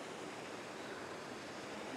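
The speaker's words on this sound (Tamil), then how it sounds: "தண்ணி ஊத்துற சவுண்டு கேக்குது" Water pours steadily at TP Kota Waterfalls, a dense continuous rushing hiss with no breaks, heard from a little distance and fairly soft.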